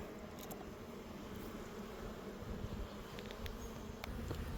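Honey bees and drones buzz softly in an open beehive, a faint continuous hum with a few light knocks.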